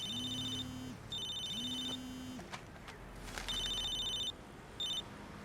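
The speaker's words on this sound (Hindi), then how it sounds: "अरे तुम्हारा फोन बज रहा है।" A telephone rings in repeated electronic bursts, close and clear, with short gaps between rings and quiet room noise underneath.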